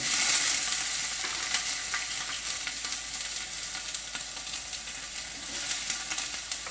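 Onions and vegetables sizzle and crackle steadily in hot olive oil in a pan, with a dense hiss and scattered pops, close by and continuous.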